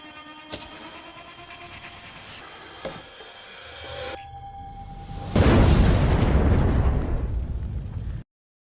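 A dynamite blast in a vampire horror film erupts as a loud, sustained roaring burst with no talk, following quieter rumbling and a few sharp pops and thuds, then cutting off abruptly.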